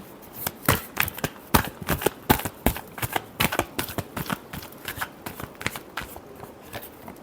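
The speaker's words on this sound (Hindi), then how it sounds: "last shuffle" Tarot cards are shuffled by hand in quick, crisp riffling bursts, a close, fairly quiet run of rhythmic flicks and snaps with no talk.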